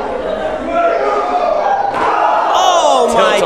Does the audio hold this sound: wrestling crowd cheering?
yes